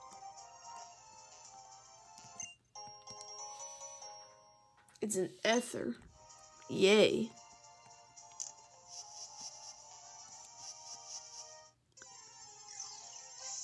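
A mobile phone ringtone plays a steady electronic melody in the background while a player narrates a Pokemon X game, with a couple of louder spoken bursts partway through.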